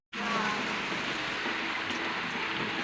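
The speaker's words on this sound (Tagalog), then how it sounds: "Umuulan na pala." Steady, dense rain pours down continuously in the Agusan Marsh, a constant hiss of drops striking surfaces close by with no pauses.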